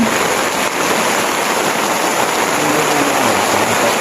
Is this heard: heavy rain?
yes